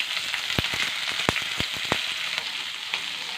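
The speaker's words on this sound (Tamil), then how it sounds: "2 நிமிஷம் போல் வெங்காயம் வதங்கி வரட்டும்." Onions, green chillies, curry leaves and chana dal fry in a pan for a mango chutney, giving a steady close sizzle punctuated by a quick run of crisp spatter pops and taps, with no speech.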